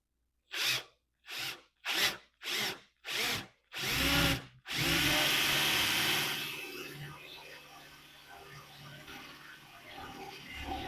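A handheld power drill bores holes into an IKEA MICKE desk: six short, loud whirring bursts in quick succession, the last one longer, followed by a lingering hum and quieter background sounds.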